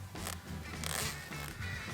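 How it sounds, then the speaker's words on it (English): A zipper on a dog jacket is drawn closed in a few quick, close raspy pulls, its metallic buzzing steady over about two seconds with no talking. "Make sure none of your hairs get caught in the zipper, because that's not fun."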